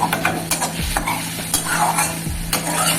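Spices with fennel paste and a little turmeric frying in a pan, a steady loud sizzle overlaid by repeated scraping stirs of a spoon, close up and continuous with no talking.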